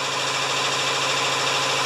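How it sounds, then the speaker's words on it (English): An air compressor runs steadily in a workshop during a repair of a Tecumseh 6.5 HP VLV mower engine. It gives off a constant, loud, close mechanical hum and whir without a break, and no one talks. "Yes, the compressor's going."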